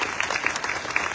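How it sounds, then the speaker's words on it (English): Audience at a documentary Q&A in Vancouver breaking into applause for a guest, a brief burst of many hands clapping, close and steady. "So a round of applause for Margaret."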